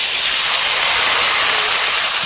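Ground spice paste tipped into hot oil for an Indian chickpea and potato curry, giving a loud, steady, hissing sizzle that stays constant throughout without letting up.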